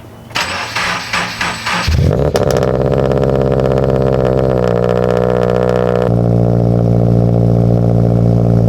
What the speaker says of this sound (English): I haven't driven my BRZ in over a month and it's literally an iceberg right now, cold start